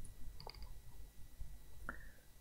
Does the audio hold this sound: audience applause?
no